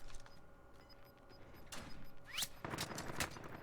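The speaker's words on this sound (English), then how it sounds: "He is getting shot from multiple different angles now." Gunfire in the battle royale game Warzone, rather quiet and somewhat distant: scattered sharp shot cracks and short bursts coming from different directions over a few seconds, intensifying toward the end, with a faint tonal beeping early on.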